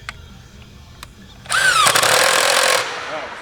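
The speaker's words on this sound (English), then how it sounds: "I would recommend drilling it into that black and then pulling it out. That gets some of the dust out of the hole" A power drill bores bolt holes through a metal pole for a solar gate opener, a loud whining burst of about a second and a half that starts abruptly and stops, heard up close after a few light clicks.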